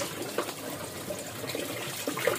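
Water runs steadily from a tap, a soft continuous splashing with a few small clinks nearby.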